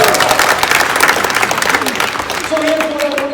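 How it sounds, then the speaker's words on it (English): A large audience at a talk applauds, filling the room with dense, sustained clapping at close range while tonal voices and a brief vocal sound rise above it. "You can clap for the audio team in the meantime"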